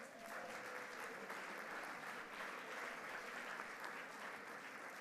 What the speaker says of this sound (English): So give yourselves a huge round of applause.